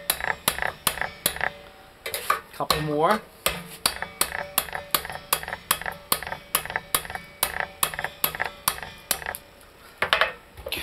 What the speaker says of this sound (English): I'm just going to whack this bushing a few times